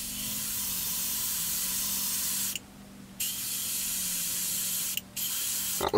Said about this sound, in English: Into a piece of kitchen roll, check the spray.